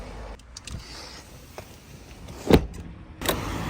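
A convertible car's roof is lowered, with a soft electric motor whir under faint background hiss, punctuated by a couple of distinct mechanical clicks and thunks.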